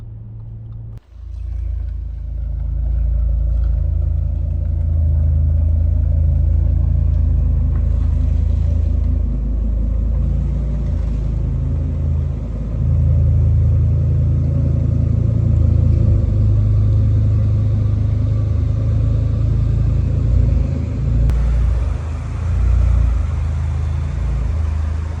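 An Audi RS6 V10 with a rebuilt oil pump drives on a road test, giving a loud, continuous low engine rumble and road drone from inside the car, swelling slightly with throttle changes, with no talk.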